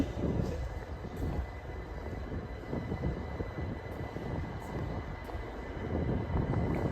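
A steady, unbroken rumble of Heathrow's inter-terminal transit train coming in, heard from the platform with low, droning noise and no voices.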